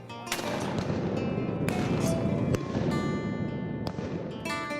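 Gunshots during a duck hunt, a rapid volley of loud sharp shotgun blasts fired in quick succession, close and overlapping, with outdoor ambience between shots.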